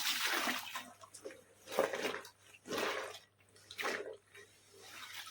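Water drains and drips from a fully soaked saree laid out to dry during a home dry-cleaning job, coming in soft, intermittent splashy bursts that are quiet and close.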